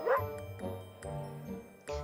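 A small dog gives a few quick yapping barks, close and fairly soft, as a sound effect within a children's read-aloud story about an old lady swallowing animals.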